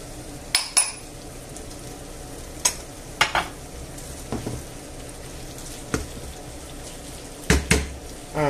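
Peas stirred into a hot frying pan for a budget meal: a soft, steady sizzle runs underneath, with scattered sharp scrapes and clinks of a utensil against the pan.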